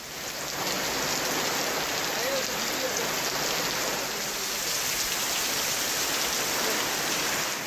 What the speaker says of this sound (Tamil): பிற்பகல் முதலே மழை பெய்து வருகின்றது